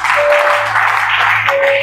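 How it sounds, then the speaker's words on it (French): A church congregation at a deliverance service applauds to acclaim God, giving a short burst of steady, loud clapping that lasts under two seconds. "acclame Dieu pour ça"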